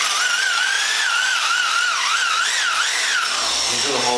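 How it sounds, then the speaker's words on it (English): A high-pitched power drill boring a 19mm hole whines continuously and up close, its pitch wavering as the bit bites, then dropping near the end. "You drill the hole safely,"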